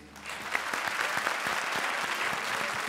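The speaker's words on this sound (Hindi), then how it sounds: "एक बार फिर जोरदार तालियां" Studio audience on a comedy show in full applause, dense steady clapping held loud for the whole stretch with no voices on top.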